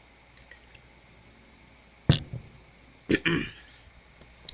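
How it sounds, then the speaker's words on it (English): A person taking sips of water, a few short close slurps and gulps separated by quiet gaps, with a soft click or swallow at the end and no speech. "let me take a sip of my water."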